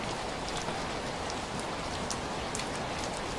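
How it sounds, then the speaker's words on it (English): Steady heavy tropical rain pours down in a jungle in a dense, even hiss, with scattered louder drops pattering close by and no voices. "Tropical rain, very normal."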